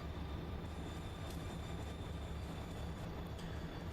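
Container train rolling steadily in Trainz Simulator 3 on Kicking Horse Pass, a continuous loud rumble of wheels and cars with faint brief squeals, no voices.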